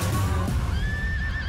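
A horse whinnies in a Bollywood trailer for the historical war epic Tanhaji, a short, clear neigh with rising and falling tonal cries over a low rumbling score.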